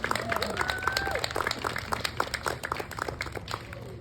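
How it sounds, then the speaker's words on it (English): Applause from an audience at a community event marking International Overdose Awareness Day in Simcoe County, a steady wash of clapping at moderate loudness sustained throughout. "Can we give her another round of applause, guys?"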